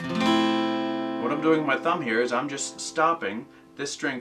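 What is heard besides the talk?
No everyday noises stand out.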